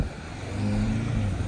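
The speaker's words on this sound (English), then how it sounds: "let's hit the gas real quick" A 2024 Audi S3 in normal mode accelerates, its engine note rising steadily and fairly loud from inside the car, with no talk.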